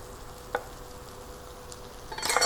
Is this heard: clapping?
no